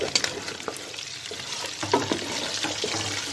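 Whole spices including black and green cardamom, cloves, cinnamon, star anise and black pepper sizzle in oil for mutton pilao, a close crackling hiss broken by several spoon stirs and clicks against the pot.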